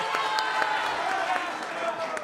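Audience applause during a televised Indian political discussion, a dense wash of clapping from a crowd with a voice running through it, steady across the short span.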